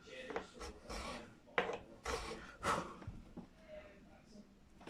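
A 10 gauge nut file scrapes through the treble string slots of a Fender Mexican Stratocaster's nut in a few short, close rasping strokes, with someone talking over the work.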